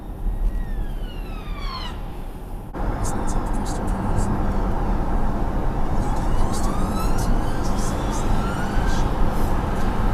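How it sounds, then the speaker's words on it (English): A wailing British police car siren sweeps up and down over loud, steady traffic rumble heard from a dashcam, continuing throughout with a second siren pattern joining midway. "Oh, another police car."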